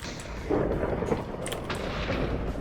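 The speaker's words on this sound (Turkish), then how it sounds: "Tamam artık buna şimşek çakacağım." Lightning strikes in the game Minecraft, bringing a rumbling crack of thunder that swells and rolls on as a dense, noisy roar for a couple of seconds without speech.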